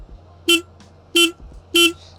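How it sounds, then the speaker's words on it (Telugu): Three short, evenly spaced honks from the loud horn of a TVS Apache RTX 300 motorcycle, clear and close against a quiet idle hum. "లౌడ్ హార్న్ ప్రొవైడ్ చేస్తున్నారు."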